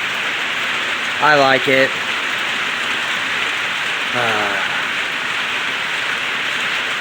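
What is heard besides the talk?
rain falling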